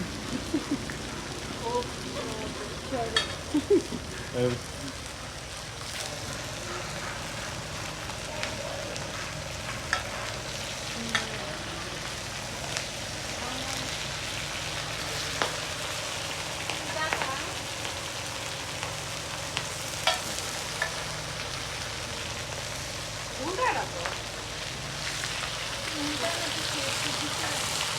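Hilsa fish frying in a pan at a riverside hotel at night, a soft continuous sizzle and crackle with occasional stirring, fairly quiet, with background chatter and a couple of laughs.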